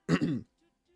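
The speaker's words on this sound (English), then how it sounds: "coughing my guts up" A single short, harsh cough or throat clear, close up, lasting under half a second before silence.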